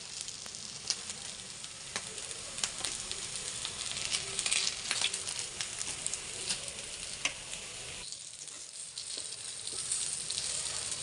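Patties deep fry in oil with a continuous bright sizzle and scattered crackles and pops, briefly dipping quieter partway before the bubbling resumes.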